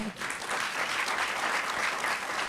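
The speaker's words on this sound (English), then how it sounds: "And you can give that a round of applause with Saul." Applause from an audience at a school district Black History celebration, a dense, steady roll of many hands clapping at once, moderately loud and sustained throughout with no speech over it.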